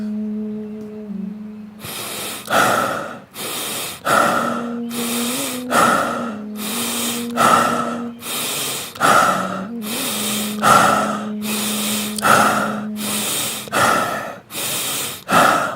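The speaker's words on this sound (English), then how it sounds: "And then we do stomach breathing" Deep stomach breathing: a long series of strong, breathy inhales and exhales in a steady rhythm, close and loud, with a soft tonal hum lingering in the background between breaths.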